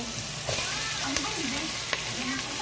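Chicken pieces frying among sautéed garlic and onion for tinolang manok, a close, even sizzle with a few soft clicks and a faint voice-like murmur underneath.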